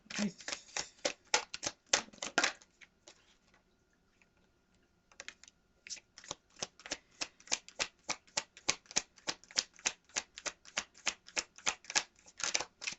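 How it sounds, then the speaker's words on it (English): Rapid crisp riffling of a deck of cards being shuffled, close up, in quick clicking bursts with a short pause before resuming; no talking. "Let me try one more shuffle."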